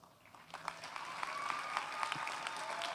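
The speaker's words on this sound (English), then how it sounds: "Give yourself a round of applause." A graduation audience at the 2018 UCLA School of Law commencement applauds steadily, a dense crowd of clapping that holds at an even level for the whole span with no voices over it.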